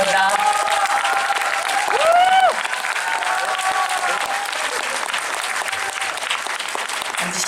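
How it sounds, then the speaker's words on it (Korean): Cinema audience at a Megabox COEX screening Q&A giving sustained applause, a dense, loud wall of clapping from a large crowd, with voices and cheers briefly rising over it before it settles. "큰 박수 부탁드립니다."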